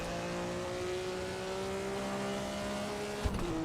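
A Ferrari 250F racing car in Assetto Corsa at Monza, its engine holding a steady, sustained drone under full throttle with a brief sharp bump near the end, and no talk.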